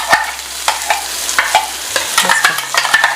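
Hot oil crackles and sizzles in a pan with scattered sharp pops and spoon scrapes, close and moderately loud, no voices.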